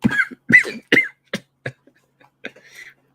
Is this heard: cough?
yes